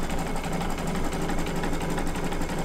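An embroidery machine stitches a reverse cutwork in-the-hoop bookmark, giving a dense, steady mechanical whir at close range for a short stretch, with no voices.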